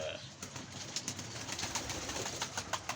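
Soft, low pigeon coos repeat under a steady background hiss, with faint birdlike chirps and rustles scattered throughout.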